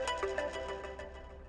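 A mobile phone ringtone plays as a repeating melodic pattern of clear tones, moderately loud with no talking over it.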